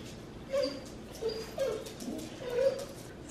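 Dogs in a backyard at night whimper and yip at a possum, with four or five distinct high, whiny cries spaced over a few seconds against a quiet background.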